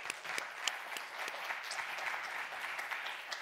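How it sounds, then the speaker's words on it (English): An audience in a Paris conference room applauds healthcare professionals during an opening ceremony, a soft, even wash of many hands clapping at a distance, steady throughout. "A round of applause for all of the healthcare professionals around the world"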